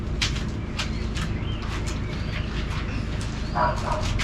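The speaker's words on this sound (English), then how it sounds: "Pardon the dogs that are barking." Dogs bark repeatedly in short sharp bursts, fairly close, over a constant background hum, with a few yips near the end.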